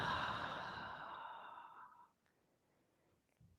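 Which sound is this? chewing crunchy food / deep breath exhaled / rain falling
deep breath exhaled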